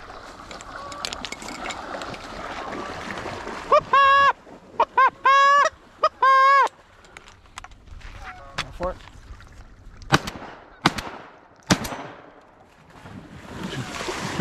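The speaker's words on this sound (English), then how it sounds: "Geese coming in. Coming in low." Geese call in a string of loud honks as a flock comes in low over a goose hunt at a wildlife refuge, with scattered nearby thumps and voices talking around the calls.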